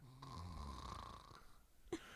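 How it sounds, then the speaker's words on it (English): Loud snoring from a person dozing, a steady droning rasp held for most of the two seconds, ending in a brief sharp snort near the close. "You're snoring very loudly."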